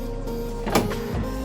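A car power window motor hums briefly as the glass slides down, with a short whir and a couple of soft clicks, heard close up during a door repair.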